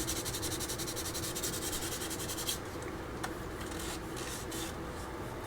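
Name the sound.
sanding model putty with 3000 grit sandpaper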